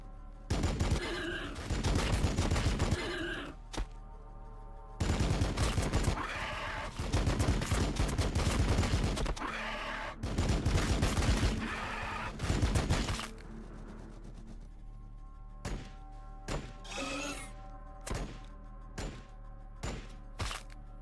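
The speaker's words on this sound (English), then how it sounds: "Taking fire!" Heavy bursts of video game gunfire, long loud volleys separated by short pauses, then a string of sharp single shots near the end.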